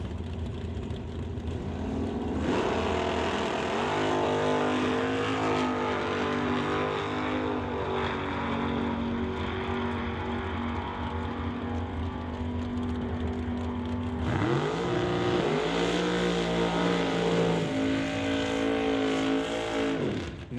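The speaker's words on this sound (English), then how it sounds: "We bring up Darren Burst first in the Chevy Nova on a single pass over" Chevy Nova drag racing on a single pass at a drag strip, a loud sustained engine roar that launches, holds at full throttle, then surges again with rising revs, close and dominant.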